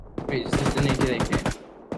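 Rapid automatic AK rifle fire in the survival game Rust, dense loud bursts of shots packed together over a couple of seconds, close and continuous with a final isolated shot.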